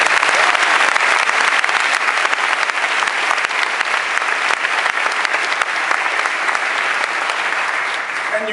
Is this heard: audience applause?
yes